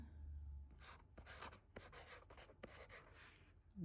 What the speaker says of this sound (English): I'm going to write on here.